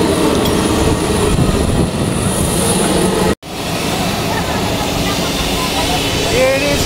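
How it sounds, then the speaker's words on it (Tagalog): Loud, steady roar of a SkyJet Air jet plane's engines heard from the cabin on a Manila to Busuanga, Palawan flight, a broad continuous drone with a brief cut partway through. "We're going to ride a jet plane."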